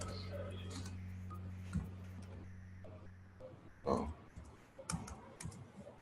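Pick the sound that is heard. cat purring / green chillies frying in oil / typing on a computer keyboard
typing on a computer keyboard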